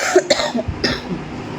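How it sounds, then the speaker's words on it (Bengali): A person with a lingering cough coughs twice in quick succession, close and fairly loud, with brief throaty bursts and no speech. "এই কাশিটা কমছে না"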